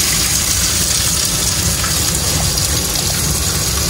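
Onion, peppers and carrots dropped into a hot pan, a loud, dense, steady sizzle that fills the short stretch without speech.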